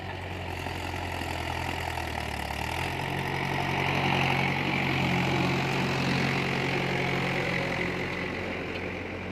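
A Mahindra Bhoomiputra 415 tractor engine runs steadily, a loud continuous droning hum that deepens slightly after a few seconds and holds its level throughout, with no talking.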